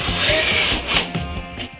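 Sandpaper rubs on wood in short, close, loud abrasive strokes, a rough scratching with a few uneven pushes and no voices.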